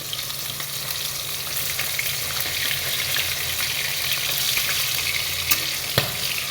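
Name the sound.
pomfret fish frying in a pan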